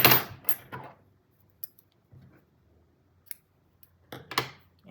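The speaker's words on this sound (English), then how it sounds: "and then cut off this yarn." Scissors cutting crochet yarn up close: a few quiet snips and clicks separated by near silence, with a louder rustle of handling at the start and end.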